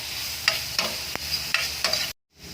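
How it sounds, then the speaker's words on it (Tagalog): Three white onions sautéing in butter in a pan give a steady sizzle, broken by several sharp spatula scrapes and stirs before a sudden brief silence. "Hindi naman pwedeng lutong-luto yung ating sibuyas. Kailangan magisa lang yan."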